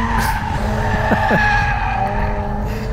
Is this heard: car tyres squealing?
yes